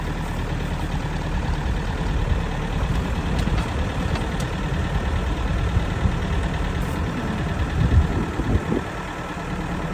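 A tractor engine runs at a steady idle-to-working rumble while its PTO lifts a chained-up shed. Low, continuous and close, with a slight swell in effort near the end and no talk.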